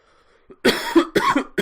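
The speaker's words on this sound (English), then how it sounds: "bit of a cough today" A man coughs several times in quick succession, loud and close to the microphone, after a faint quiet start; the coughs come during a Football Manager 2019 commentary session.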